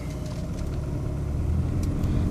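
Inside a 2003 Peugeot 206 LX with an automatic gearbox, the engine hums low and steady while driving, with a smooth, even rumble and no sharp ticks or knocks.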